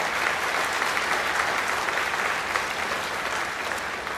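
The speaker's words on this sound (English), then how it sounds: "Give yourselves a round of applause." A large crowd at a high school graduation ceremony claps in a thick, continuous roar of applause that stays loud and even from start to finish.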